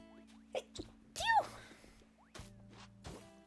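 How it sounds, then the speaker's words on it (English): A person sneezes once, a sharp close burst in the middle, amid intermittent game sound effects and background music while building paths on an island. "I sneezed."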